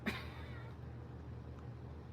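A cat gives one short, faint meow at the very start, then only a steady low indoor hum remains.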